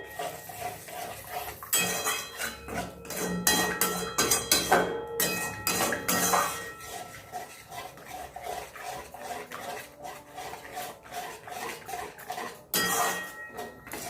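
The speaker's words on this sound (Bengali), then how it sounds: "মশলাটা একটু কষিয়ে নিই।" Spices being fried and stirred in a pan, heard as repeated close scraping and clinking of a utensil against metal in uneven bursts over a low sizzle, with no speech.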